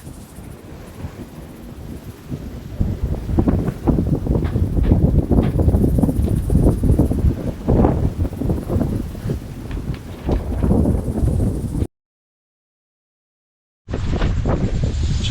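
Strong wind buffets the microphone aboard a sailboat cruising near Huahine, a loud gusting roar that surges and eases, then cuts out briefly before returning.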